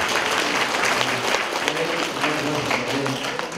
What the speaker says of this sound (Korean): 우리 시민들이 또 한 이틀 동안 이렇게 고생 많이 해 박수 한번 쳐주면 좋겠습니다